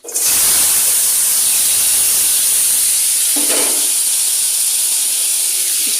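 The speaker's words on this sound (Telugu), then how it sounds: "ఒక 3 పచ్చిమిర్చి వేసుకొని వేపుకోవాలన్నమాట." Green chillies hit hot oil in a pan, setting off a loud, continuous hiss and sizzle that stays strong throughout.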